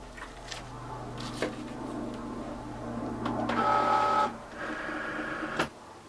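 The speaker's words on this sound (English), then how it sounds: "now load my mat into my machine." Cricut cutting machine loading a fabric cutting mat, a steady motor hum with soft clicks, rising into a brief higher whirring feed, pausing, whirring again, then cutting off abruptly.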